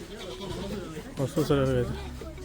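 An Arabian sheep lets out a loud, wavering bleat up close in Abu Dhabi after some background chatter and murmuring voices.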